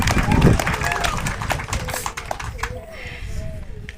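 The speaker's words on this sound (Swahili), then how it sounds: "tumchapie makofi kijana huyu" A crowd applauds a young man at a party, steady clapping and crowd noise running throughout, loudest early and easing slightly toward the end, with voices mixed in.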